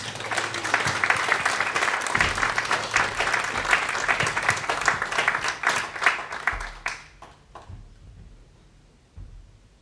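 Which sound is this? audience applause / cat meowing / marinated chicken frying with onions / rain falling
audience applause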